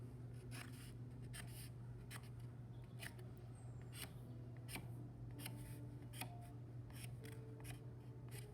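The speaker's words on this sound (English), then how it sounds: "Find a pencil, hold it nice and still with one hand, and everywhere you see a notch, you're going to put one tick mark." A pencil making tick marks on a paper plate, a series of short, crisp scratching strokes at irregular intervals, close and fairly quiet, over a steady low background hum.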